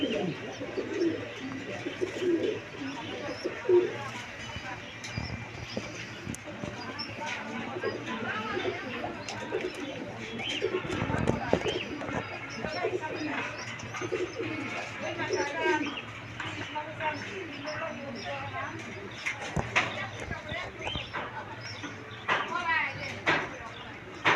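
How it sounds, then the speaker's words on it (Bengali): A pair of red pigeons with two chicks coo on a farm, low rolling calls recurring throughout while a person talks steadily nearby and other birds chirp faintly. "রেড কালার কবুতর দুইটা বাচ্চা সহ মাত্র পাঁচ হাজার টাকা"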